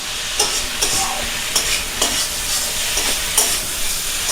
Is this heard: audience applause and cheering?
no